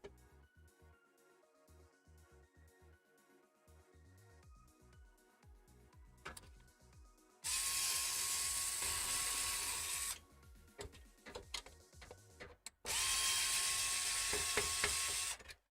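A PC case is taken apart by removing its screws. Ratcheting mechanical clicks are followed by two loud, sustained bursts of a powered screwdriver whirring close by, with short gaps and rattles between them.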